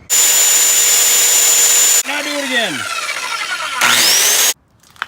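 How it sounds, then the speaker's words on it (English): A circular skill saw cuts wood outdoors, loud and close: a steady high whine, then a dip as the blade bites, then another whine spinning down. Someone speaks briefly over it. "Take your skill saw and you cut 100 little fucking stupid little, like a bunch of these."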